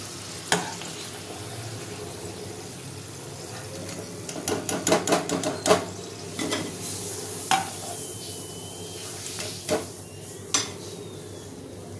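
Coconut puli pakora fry in oil under a soft sizzle while a utensil clinks and scrapes against the pan in quick irregular taps, close and fairly quiet.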